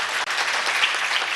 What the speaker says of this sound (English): you need to applaud yourselves for showing up